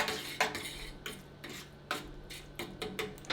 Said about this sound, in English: now I'm going to do my first stirring